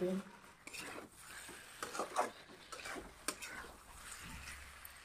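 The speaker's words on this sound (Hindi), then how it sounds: "मछली को डालकर इसको हम अच्छे से चलाएंगे और थोड़ी देर तक इसको भूनेंगे" Fried mangur fish is stirred in a pan, with quiet sizzling, a spoon scraping and clinking against the metal, and soft ticking knocks at a moderate distance.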